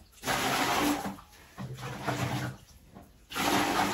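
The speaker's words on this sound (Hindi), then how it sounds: "मैं साफ करूं बर्तन। गर्म पानी डाल देती हूँ," Hot water is poured and splashes over dishes being washed in a home kitchen. It comes in three bursts with short pauses between them, close and fairly loud.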